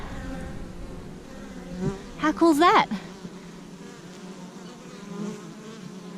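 Steady low buzzing of honey bees throughout, with a brief spoken remark near the middle rising over the hum.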